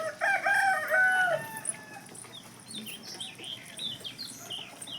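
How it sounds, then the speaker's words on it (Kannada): Chickens clucking and calling nearby in a village, with a rooster-like crow at the start followed by scattered bird chirps in the background. "ಇಲ್ಲಿ ಕೋಳಿ ಎಷ್ಟು ಅದಾವ್ರಿ"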